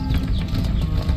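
Horse hooves clop in a steady rhythm over a rumbling background in the video game Far Cry 6, loud and close, in a brief burst without any voices.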